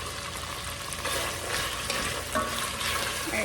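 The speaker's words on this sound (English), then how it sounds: "once I've got some brown bits on that Italian sausage" A pound of Italian sausage browning in a pan with garlic gives a steady close sizzle, punctuated by scraping stirs of a utensil every second or so; no talking.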